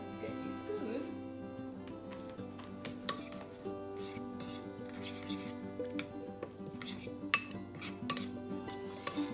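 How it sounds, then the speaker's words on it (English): Dijon mustard sauce for salmon being stirred with a utensil in a dish, giving light clinks and taps of metal on the bowl over a steady background hum, with someone talking throughout. "And now we're just going to stir that up."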